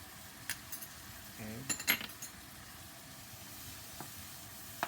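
Minced ginger sizzles in rendered lamb fat for a lamb keema curry, a low steady frying hiss with a few utensil clinks and scrapes against the pan, and a brief spoken word.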